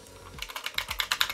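Quick, close keystrokes clatter on a computer keyboard in a rapid, slightly uneven burst of about a dozen clicks over a low electronic hum.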